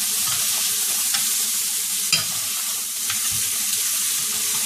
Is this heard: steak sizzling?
yes